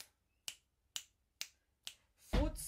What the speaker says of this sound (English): Finger snaps.